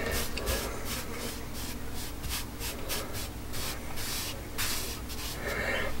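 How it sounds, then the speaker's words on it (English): Hands rubbing flour onto the underside of a steak, mushroom and onion pie crust, a soft steady brushing and scraping texture with quick strokes, faint and close. "So I'm just gonna rub some flour in there on the bottom part,"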